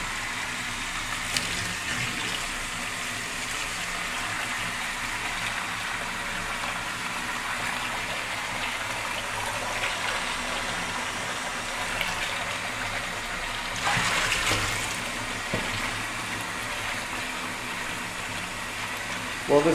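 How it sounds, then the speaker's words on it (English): Hot water runs steadily into a plugged kitchen sink, a constant broadband rush and splash that persists throughout, with a brief louder surge in the middle. "flush this out with good hot water."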